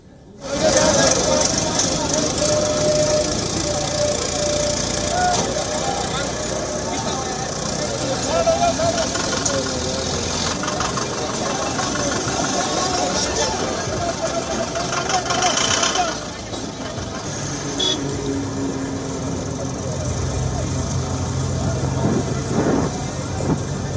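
A convoy of tractors carrying farmers and supporters through Punjab and Haryana gives off a steady, loud engine drone and rumble that holds throughout with little variation, while a voice talks over it.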